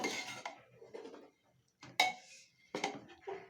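A spoon clinks and scrapes against a cooker pot while carrots and milk are stirred together for carrot halwa, giving short, close metallic knocks separated by brief quiet gaps.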